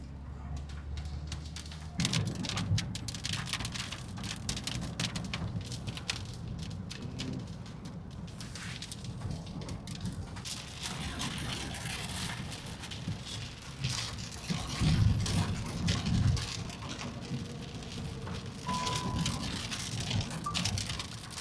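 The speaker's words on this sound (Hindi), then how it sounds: "बारिश अच्छी खासी हो रही है" Heavy rain pattering steadily on a car during a drive on the Delhi–Meerut Expressway, a dense continuous wash over low road and engine rumble, with no talk.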